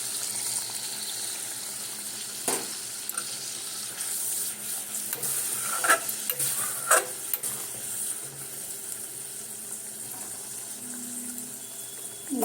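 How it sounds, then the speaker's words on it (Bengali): Chicken stir-fried with spices in a pan gives a steady, faint sizzle, with a few sharp clinks of a utensil against the pan scattered through it. No voice is heard. "এইবারে এটাকে দিয়ে সুন্দর করে কষাতে থাকবো।"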